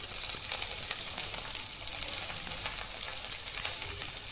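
Ginger and chillies fry in a pan for paneer chilli, a steady, close hiss of sizzling oil that holds evenly throughout with a small swell near the end and no voices.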